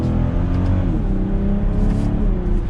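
A 2022 BMW X5 sDrive40i pulls hard after a paddle-shift upshift, its engine giving a steady, loud, rising drone with a smooth pitch change as the gear engages, heard from inside the cabin with no talking.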